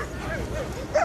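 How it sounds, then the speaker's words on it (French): Dogs bark and yip during a dog-handling exercise with a suitcase and bag in a French family-help reality show, a short burst of barking that sharpens at the very end over background noise. "Harcelé par les chiens, Kevin a du mal à réussir l'exercice"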